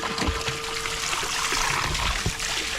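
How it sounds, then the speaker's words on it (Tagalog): A small 12-volt submersible pump run off a battery sprays water in a steady, fairly close rushing hiss, continuous with faint spattering and a thin electric whine running underneath. "Submersible pump. Napakalit lang pero lakas."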